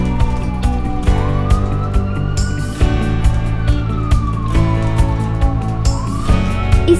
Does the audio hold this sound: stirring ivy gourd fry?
no